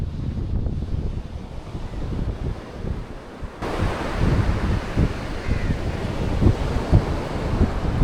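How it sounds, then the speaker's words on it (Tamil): Strong sea waves crash and surge continuously onto Kunthukal beach, a loud, full wash of surf with wind noise buffeting the microphone, growing heavier partway through. "அலை கொஞ்சம் அளவுக்கு அதிகமாகவே வேகமாக அடிச்சுக்கிட்டு இருக்குங்க"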